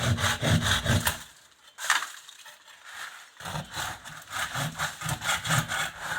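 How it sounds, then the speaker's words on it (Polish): A hand saw rasps through the wood of a Christmas tree in steady back-and-forth strokes, pausing briefly midway before resuming its rhythmic cutting, close and fairly loud. "Nie musisz tak naciskać, bo ci się piła zakleszczy."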